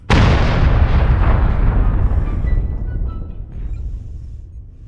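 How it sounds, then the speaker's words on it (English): An Arrow IV artillery salvo launches from a Longbow LGB-8V(S) mech in MechWarrior Online, a loud, sudden rushing blast that rolls and fades gradually over several seconds, with no voices over it. "And let's fire and see what they do."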